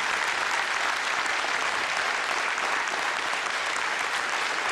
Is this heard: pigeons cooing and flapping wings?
no